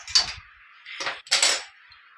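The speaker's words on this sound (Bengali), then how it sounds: "কড়াইটা বসিয়ে দিয়ে" A metal wok is set down on a kitchen stove with two bright clanks and a short scraping slide, close and fairly loud with no talking.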